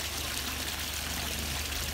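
Water pouring and trickling steadily in an outdoor aquaponics system, a continuous close splashing wash with no break and no voices.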